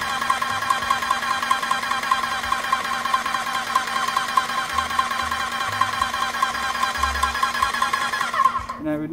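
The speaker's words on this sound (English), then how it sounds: "turn the pump on. And you want to cycle some paint through the system like this" Airless paint sprayer pump running at very low pressure while cycling paint through the system, a loud, steady rapid mechanical buzz with a constant tone that cuts off abruptly at the end.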